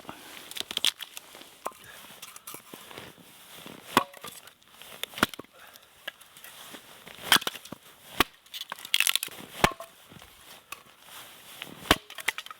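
Firewood logs split with an axe outdoors in Alaskan cold, a series of sharp, irregularly spaced chops and cracks with splintering wood between strikes, close and fairly loud.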